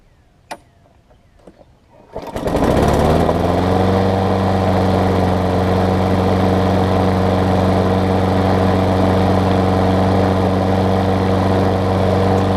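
A few soft clicks and a sharp knock come before a Craftsman self-propelled lawn mower with a Tecumseh engine catches and roars to life. It settles into a loud, steady running drone close by.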